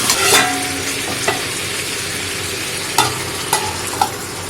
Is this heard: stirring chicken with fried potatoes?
yes